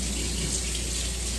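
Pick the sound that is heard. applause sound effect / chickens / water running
water running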